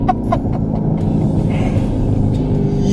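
A 2025 Dodge Charger Daytona R/T emits a loud, steady low rumble from its exhaust sound while cruising, a continuous deep drone heard from inside the car without pause.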